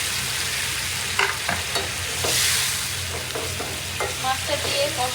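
Large tangra fish frying in spice masala for a catla and tangra fish curry give a steady sizzle, with a handful of sharp spatula scrapes and clinks from stirring close to the pan.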